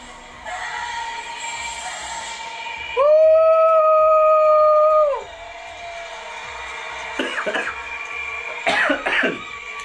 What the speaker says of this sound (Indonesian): Sampai batuk aku saking semangatnya.